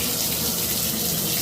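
Shower water runs steadily after a hot water valve repair, a loud, dense, unbroken rush of spray close by, with no voices over it.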